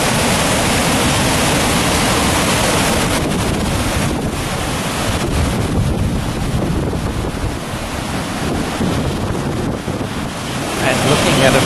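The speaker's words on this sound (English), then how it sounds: "as soon as we look over the top of the dam wall and you see the water spilling over, it's anything but calm" At a dam wall, water spills heavily over the overflow in a loud, continuous roaring rush mixed with wind buffeting the microphone, with no pauses across the whole stretch.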